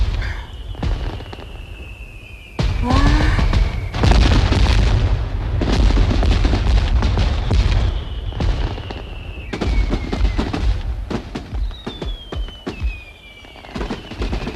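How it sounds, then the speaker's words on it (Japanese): Repeated booming fireworks burst at irregular intervals, with crackling and whistling rockets rising between the loud explosions. "あれは花火です。"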